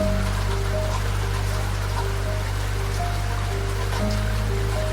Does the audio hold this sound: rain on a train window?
yes